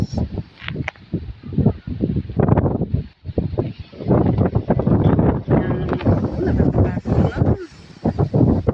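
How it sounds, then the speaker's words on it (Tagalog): Strong gusts batter the microphone in rough, rumbling bursts on an overcast afternoon, with a person talking underneath the wind noise. "lumalakas-lakas na medyo ang hangin"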